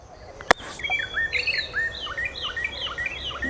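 A person imitates bird chirping with a run of quick, high whistled tweets and trills, sounded close after a sharp click and repeated in short bursts for several seconds.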